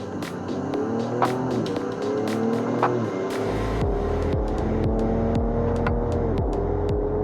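A 2023 Ford Ranger Raptor pulls away in first gear in manual mode, its engine note climbing steadily and then dropping at a shift before rising again, heard from inside the cabin with a steady road drone.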